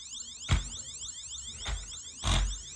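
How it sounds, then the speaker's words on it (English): A LEGO 6482 Rescue Helicopter toy siren wails in repeating electronic sweeps, close and bright, punctuated by three sharp bursts at regular intervals. "A rescue helicopter with flashing lights and a siren."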